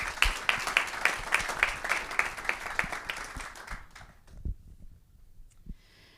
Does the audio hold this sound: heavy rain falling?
no